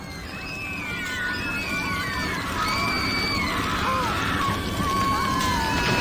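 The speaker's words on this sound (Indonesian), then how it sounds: "Terdengar suara teriakan yang sangat riuh, juga suara jerit kesakitan" A large crowd shouting and screaming in pain, with shrill cries rising over a constant roar of many voices.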